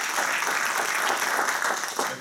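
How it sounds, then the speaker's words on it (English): Steady applause from an audience at a university speech event honoring student speakers, a dense even wash of clapping that holds for a couple of seconds before tapering slightly. "how about another round of applause for every one of those speakers?"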